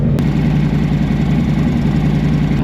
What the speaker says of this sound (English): Start up, the engine's already quieter.